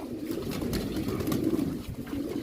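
A pigeon coos softly and repeatedly at close range in a loft of flying pigeons, low throaty notes rolling one into the next with no voices.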